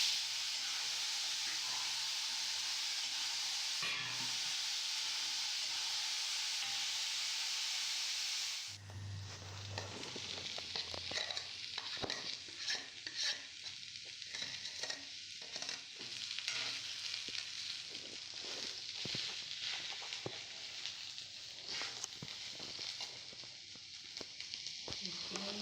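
Large onions sauté in a pan, browning toward golden. After a quieter stretch the sizzle jumps louder, crackling and popping irregularly up close while a voice talks over it at times.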